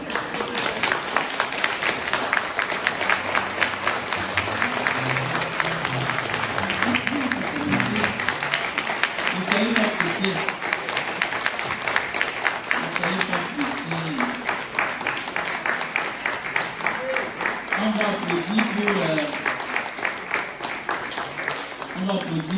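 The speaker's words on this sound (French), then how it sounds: "je vous invite à applaudir pendant 1 minute." A Mass congregation applauding a Senegalese choir, a long, steady stretch of rhythmic clapping at moderate volume with voices and some singing beneath it.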